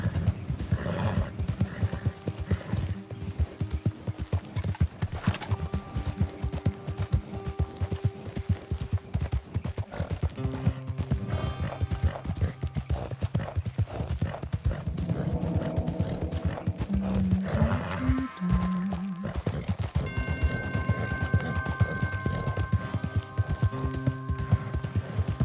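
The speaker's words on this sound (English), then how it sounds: "if I go to the stables, am I gonna have Arthur's, like, horses?" Horse hooves clop steadily at a stable in Red Dead Redemption 2, with an occasional whinny and soft background tones throughout.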